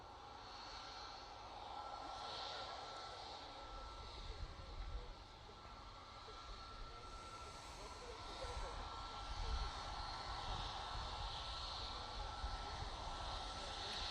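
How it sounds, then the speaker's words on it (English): Airliners departing Manchester Airport, a steady distant broadband jet roar that holds throughout with slight swells, heard alongside a person talking. "We've got a fair few aircraft making their way out."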